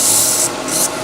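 Hand sanding of a fragile piece, two short rasping strokes of abrasive rubbing across a surface, close and fairly loud, with no talk.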